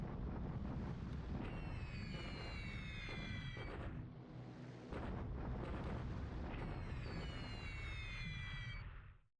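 Heavy rumbling bomb blasts from B-17 bombers striking a recon regiment in a WWII combat game, a dense continuous roar with whistling falling tones overhead, loud and sustained throughout with a brief lull in the middle.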